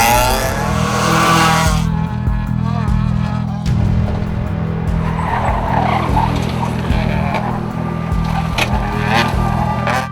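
Rally cars on a tarmac stage of the Rally of Maharashtra, engines roaring loudly and continuously with tyre squeal and skidding, a dense close racing din throughout.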